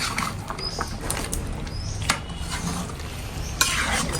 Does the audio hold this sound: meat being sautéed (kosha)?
yes